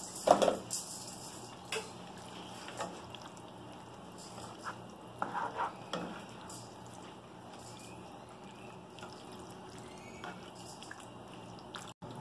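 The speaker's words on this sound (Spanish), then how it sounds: "Le ponemos el espagueti poco a poco y mezclamos." Spaghetti being mixed in a pan with chicken, poblano chile and cream sauce: sparse utensil clinks and soft wet scraping against the pan, quiet, with a few sharper taps spread across the stretch.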